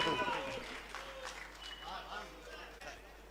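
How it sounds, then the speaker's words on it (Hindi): Audience applause at a Hindi heroic-poetry recital, a moderate wash of clapping that fades gradually while a voice is heard over it. "एक बार जोरदार तालियां अगर आपकी हो जाए"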